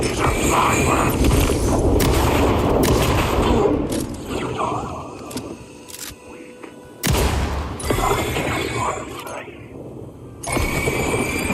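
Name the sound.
fireworks exploding in the video game Alan Wake 2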